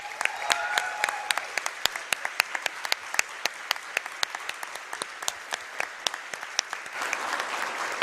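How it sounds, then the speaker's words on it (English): An audience applauding at a live speedrun race event, sustained clapping with many distinct sharp claps, fairly close, swelling slightly toward the end. "So one more round of applause."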